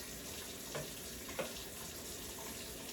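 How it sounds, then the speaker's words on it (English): Water pours into an oxtail sauce cooking in a pot, a faint running splash with a sizzle beneath and two brief clinks, quiet and close. "Pour a little bit of water in here because I want the sauce to be able to pour over the meat"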